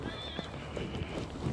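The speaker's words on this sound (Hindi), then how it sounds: "ये घोड़ी है जी" A five-year-old Marwari mare is heard up close, with a brief whinny-like tone and soft hoof shuffles and clops on the ground, short and fairly quiet.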